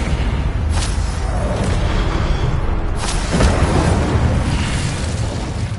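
A fire spell blast in Hogwarts Legacy gameplay: a loud, dense roar with sharper bursts near the start and midway, sustained for several seconds with no talking.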